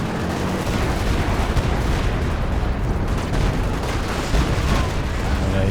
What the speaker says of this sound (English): Dropping the Stuka, walking Stuka artillery on that